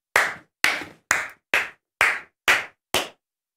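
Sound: person standing up and clapping hands

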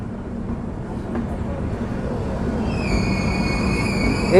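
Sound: Humsafar special train entering station platform

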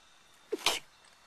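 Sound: sneeze

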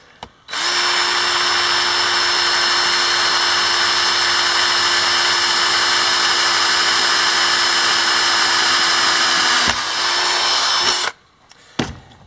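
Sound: drilling a quarter inch hole

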